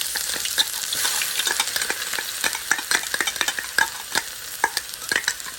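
Fish with ginger and garlic fries loudly in hot oil, a bright crackling sizzle broken by rapid, irregular clicks and scrapes of a spatula stirring close by, with no voices.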